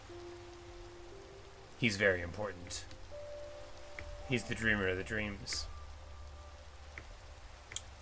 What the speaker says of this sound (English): Cat getting rained on.